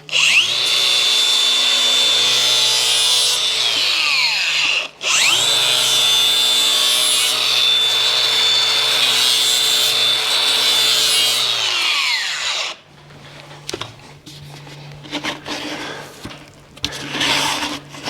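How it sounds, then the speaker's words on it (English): A power tool bevels the edge of a vent delete part for a Kawasaki KRX, grinding loudly and steadily in two long close passes, then stopping for quieter scraping and handling noises. "I'm gonna try to give this a slight bevel, so when we slide on the boot, it just makes it a little bit easier."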